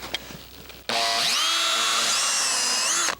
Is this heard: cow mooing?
no